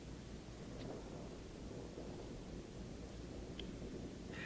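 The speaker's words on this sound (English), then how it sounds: "the thunder you're going to hear in here and the lightning they're going to use" Low, distant rumbling thunder in the film soundtrack of Night of the Living Dead, a faint continuous roll heard alone with no voices.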